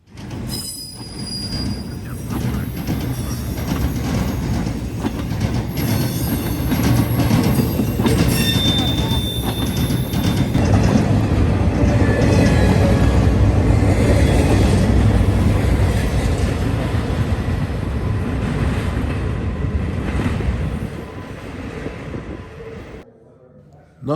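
A Norfolk Southern 28N intermodal freight train passes loudly and close for about twenty seconds, a rumbling roar of wheels on rail with high squeals, then fades away quickly at the end.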